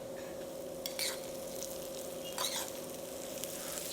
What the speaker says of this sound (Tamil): இதில் நம்ம பொடிசாக நறுக்கின வெங்காயம்